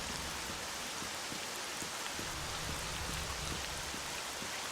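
Steady rainfall in the STALKER video game, a dense, even hiss of rain on surfaces with scattered droplet ticks, continuous and unbroken with no voices.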